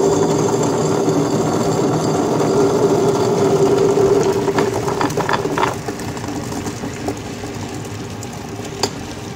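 A wet grinder grinds fenugreek and urad dal for millet idli and dosa batter, a steady loud mechanical hum with a rhythmic churning whir and light knocking, running alone throughout.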